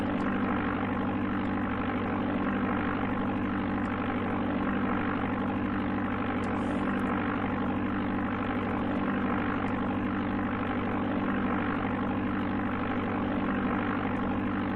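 A propeller airplane engine in the old Amiga Flight Simulator II on approach to landing at Kokomo Municipal, a steady, unchanging buzzing drone that holds constant and fairly loud throughout.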